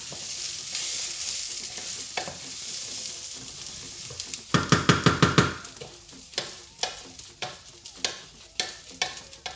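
Rice being toasted and stirred in a pot for Ghanaian oil rice: a dry scraping and crackling sizzle, with a loud burst of stirring midway followed by repeated sharp scrapes of the spoon against the pot.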